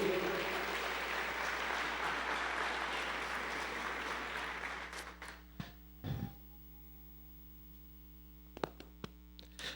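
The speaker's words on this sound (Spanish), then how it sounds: "Por eso yo quiero que le demos un aplauso muy especial, Carlitos, Abril." Dense applause from a sizable church congregation fades out over several seconds, leaving a steady electrical hum and a few scattered claps.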